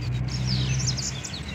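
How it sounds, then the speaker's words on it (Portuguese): A small seedeater songbird, a male coleiro, sings a quick series of bright, sweet whistled notes, clear and close, over a low steady rumble of traffic. "O coleirinho aqui tem bastante na região. É um canto muito lindo."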